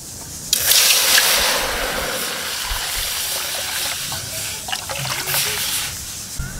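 Rice is washed under running water in a kitchen, a loud rushing splash that starts abruptly and keeps flowing steadily, with faint clatter of grains and container.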